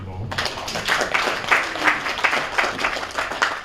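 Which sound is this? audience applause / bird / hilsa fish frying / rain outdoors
audience applause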